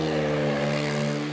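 Quad bike engine revving hard to spin its tyres at an outdoor stunt track, giving a loud, close, steady harmonic engine drone that holds throughout without talk.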